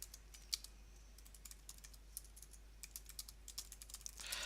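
Quiet typing on a computer keyboard while filling in an order form, a steady run of light, irregular key clicks with a slightly busier burst at the end.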